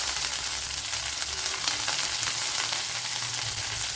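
Mustard seeds, garlic cloves and curry leaves frying in hot oil give a steady, close, even sizzle with a fine crackle that holds for the whole stretch, and no one talks.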